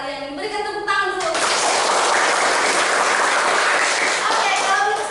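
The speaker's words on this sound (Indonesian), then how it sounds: "Berikan tepuk tangan dulu." A classroom of students bursts into loud, dense clapping after a teacher's voice in a microteaching lesson, the applause sustained for several seconds before her voice returns.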